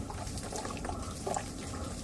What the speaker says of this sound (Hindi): हाँ, और पानी डाल,